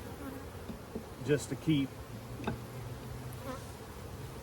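Honeybees drone around an open hive during a brood inspection, a soft continuous buzz with a few louder bees passing close, under brief quiet talk.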